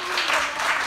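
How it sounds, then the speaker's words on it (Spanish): A short burst of lively, continuous applause from a school class playing a team tangram challenge game, brief and fairly close. "¡Aplauso!"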